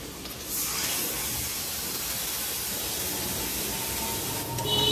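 A wet spice paste of chili, cumin and ginger hits a hot kadai and fries with a steady, loud, broadband sizzle that holds evenly, close by, with no voices.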